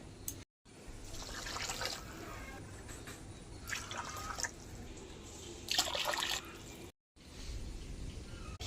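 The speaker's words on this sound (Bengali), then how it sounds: "এবার দিয়ে দেবো পরিমাণ মতো জল।" Water poured into a pot of broken rice and lentils coated with mustard oil for khichuri, coming in three short splashing bursts with quiet pauses between them.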